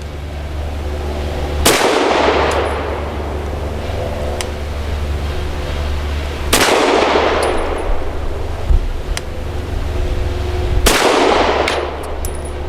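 A Walther PDP 4-inch compact pistol fires Fireball ammunition outdoors, three sharp, loud shots spaced about four seconds apart, each followed by a short echoing decay over faint background noise.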